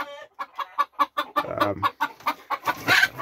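Broody game hens sitting on eggs give a close, rhythmic series of soft clucks, about a dozen evenly spaced pulses, ending in a brighter, louder call.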